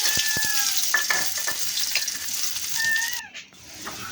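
Onions fry in a pan with dried chillies for dal bhuna, a soft steady sizzle with scattered stirring clinks and scrapes close by, fairly quiet overall.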